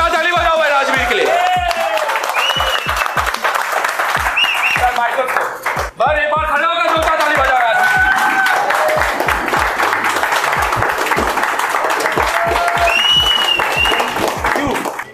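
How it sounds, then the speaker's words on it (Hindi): Audience applause for a student competition winner named Rajveer in a classroom, loud, dense clapping that carries on throughout with sharp individual claps close by, mixed with cheering and voices. "एक बार जोरदार ताली बजाओ भाई राजवीर के लिए।"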